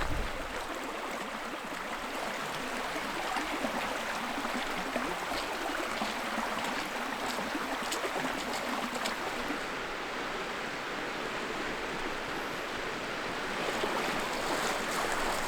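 River water rushes steadily during an attempt to wade across a river on Vancouver Island, a loud continuous broadband roar of flowing water with wind buffeting, no voices.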